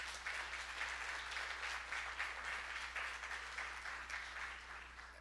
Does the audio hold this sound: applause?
yes